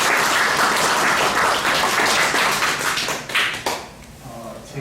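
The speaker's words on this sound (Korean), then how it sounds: "다시 한번 네 분의 이 희생적인 참으로 이 따뜻한 마음을 가진 네 분에게 다시 한번 큰 박수를 드리겠습니다" A lecture-hall audience gives a big round of applause for four people, dense, loud continuous clapping that holds for several seconds, then tapers off into a few scattered claps.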